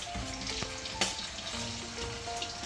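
Chicken pieces fry in hot oil for a chicken pickle, giving a close, continuous sizzle with small crackles and a few soft stirring knocks.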